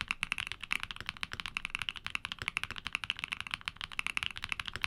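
Keygeek switches in nylon housings being typed on, with a light 45-gram bottom-out force: steady, rapid clacky keystrokes close up and fairly quiet, with no one talking.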